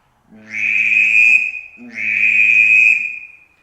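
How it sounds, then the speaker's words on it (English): Two long, drawn-out calls on a drake duck whistle blown too long, each a buzzy, low croaking tone with a sustained high whistle, sounding like a bullfrog. "when they blow these Drake whistles, they blow them too long and it sounds like a bullfrog"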